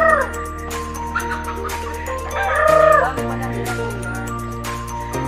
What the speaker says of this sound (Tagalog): So papakainin na ni Gian yung mga pang chicken